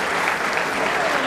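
An audience at a boxing match applauds, a dense and steady wash of clapping that is loud and continuous for the brief moment.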